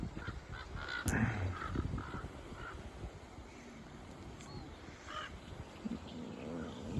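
A large flock of crows caws and calls outdoors, harsh repeated cries scattered across the scene over steady background noise, with one sharper nearby call standing out.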